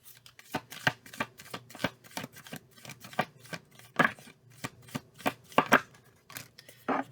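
Tarot cards are shuffled by hand close to the microphone in a quick series of crisp riffles and slaps, rapid and irregular, fairly quiet, with no talk.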